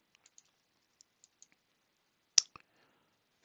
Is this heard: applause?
no